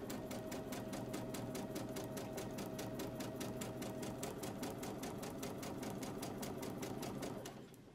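A sewing machine stitches a curved seam on a fabric face mask, running in a fast, even rhythmic chatter up close before slowing and stopping near the end.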